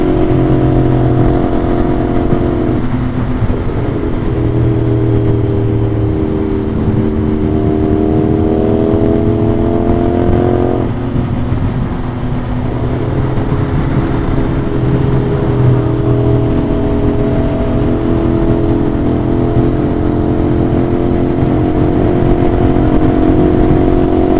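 A 675NK big bike motorcycle cruises on an expressway, its engine a steady mid-pitched drone with shifting tones as the rider changes speed, plus constant wind and road rush throughout.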